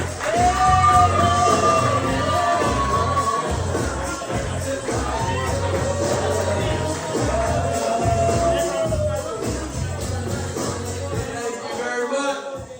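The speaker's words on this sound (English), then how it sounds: "stand up, give a round of applause, give it up for Ben Gleib" A comedy club audience on its feet, cheering, whooping and shouting loudly, with applause under the crowd noise and the host's amplified voice over the top.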